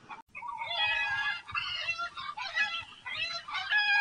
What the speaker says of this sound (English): The chickens are making a terrible noise.